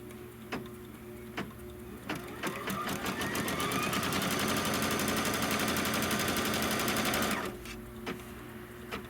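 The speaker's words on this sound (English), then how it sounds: "Then it's going to stitch the trim line for the other side." An embroidery sewing machine stitches a trim line, a quick rhythmic mechanical chatter that runs steadily for about five seconds after a few isolated ticks, then stops, leaving faint ticking in a quiet room.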